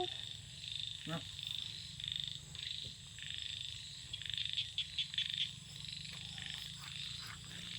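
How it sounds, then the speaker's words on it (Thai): Frogs croaking in a rice field, a dense, steady chorus of trilling croaks that fills the scene from start to finish, with a few louder nearby calls standing out from the mass. "เสียงกบเสียงเขียด เออเต็มทุ่งนาออดเอ็ดออดเอ็ดออดเอ็ดอยู่"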